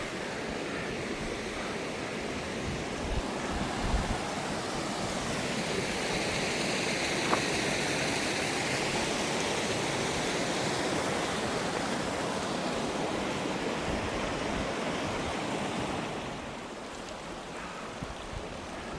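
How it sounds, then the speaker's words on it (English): Steady rushing water from a mountain waterfall in the Nine Lakes Basin roars without pause, a broad, loud wash of spray and flow close by. "Came up this waterfall"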